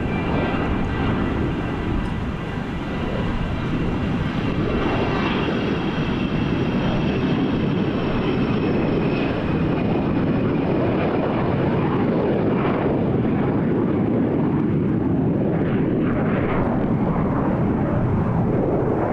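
A general aviation airplane taking off from runway 27 right at Gillespie Field in San Diego, a loud steady engine roar with a slowly shifting drone and no talk.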